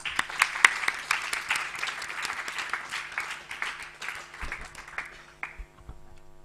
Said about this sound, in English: all of y'all deserve a huge round of applause from all of us.